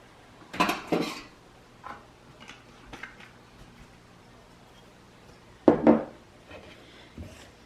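Metal spoon clinking and scraping against a bowl while vinegar is mixed into sushi rice, heard as a few sharp bursts near the start and again toward the end, with soft scattered taps between.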